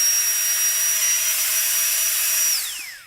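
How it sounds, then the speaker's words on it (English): A small USB vacuum cleaner runs with a loud, steady high-pitched whine and airy hiss, its tone gliding down as it spins off near the end. "this little small USB vacuum that, boy, it's loud"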